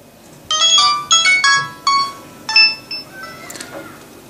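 A teXet TM 3000 mobile phone plays its startup ringtone: a short, bright jingle of several clear tonal notes in quick succession, loud and close, with no other sound.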